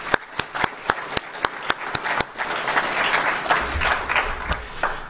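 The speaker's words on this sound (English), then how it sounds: "Let's give Healthy for Life a round of applause" A lecture audience claps in a seminar on seed oils: about a dozen distinct, sharp claps in steady rhythm at first, then swelling into dense, sustained applause from the crowd, with a low rumble near the end.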